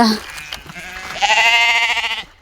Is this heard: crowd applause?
no